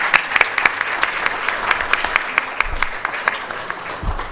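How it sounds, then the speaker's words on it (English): An audience claps continuously in a round of applause at a College of Health Sciences anniversary celebration during a research meeting in Ghana. The hall is filled with dense, crackling hand claps at a steady level, with no speech over them. "I thought you'd give a round of applause for that."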